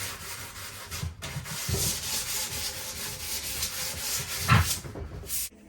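Hand sanding the rolled edges and sides of a resin worktop over timber, a close, continuous rough scratchy rubbing with uneven back-and-forth strokes.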